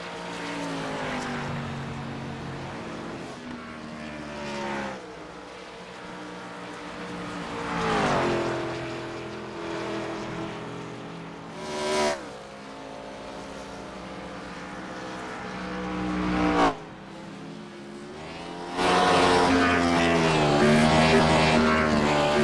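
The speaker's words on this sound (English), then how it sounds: "That's just Aaron Smith doing his burnouts here on the front stretch." A race car in an IROC racing video game does burnouts on the front stretch at Rockingham, its engine revving repeatedly in rising and falling surges, loud and close, with brief gaps between bursts.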